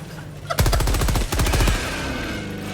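Heavy .50 caliber machine-gun fire in the shooter game Helldivers, two loud rapid bursts of rattling shots with a brief gap between them, then a fading echo.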